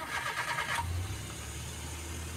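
A Suzuki DA63 engine is cranked and catches, the starter's whirring chatter giving way to a low, steady idle.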